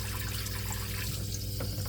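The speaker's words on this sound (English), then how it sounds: "Let's see if the sprayer works." A toilet sprayer in an RV bathroom gives a steady, close hiss of spraying water that runs the whole short moment without pause, with a low hum underneath.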